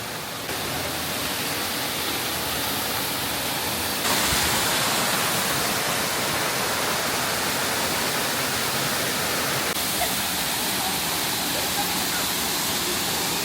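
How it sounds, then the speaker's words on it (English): A waterfall at Mayan King Nature Park in Belize roars as a loud, unbroken wash of rushing water, close and steady throughout, with no other sounds over it. "So apparently there are 3 different waterfalls, and I think we're going to the highest one first."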